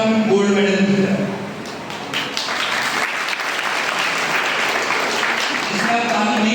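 An audience at a life coaching talk applauds steadily for several seconds, a broad crowd clapping that starts under a speaking voice.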